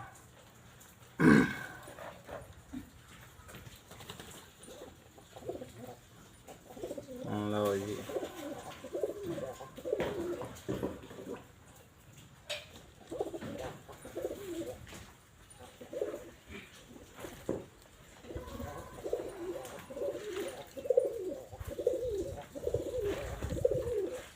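Pigeons coo in repeated soft, throaty calls, close by, with some rustling and background noise between the coos.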